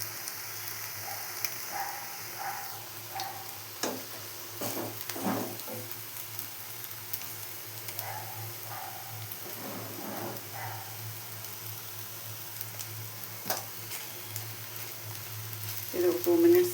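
Egg frying in oil in a pan, a steady close sizzle and crackle running throughout with occasional brief stirring or pops.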